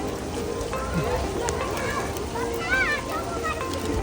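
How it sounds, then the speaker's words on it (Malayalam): Heavy rain pours steadily in Sharjah at a rain cafe on a September day, a dense continuous wash of drops hitting surfaces, with people talking and calling out over it. "സെപ്റ്റംബർ 1 ഷാർജയിലുള്ള മഴയാണ്."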